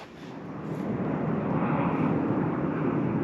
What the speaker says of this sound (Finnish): No nyt on ääntä järvellä, siellähän lentää hävittäjiä